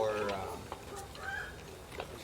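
Backyard chickens clucking nearby in a residential neighborhood, a couple of short, soft calls heard over low background noise.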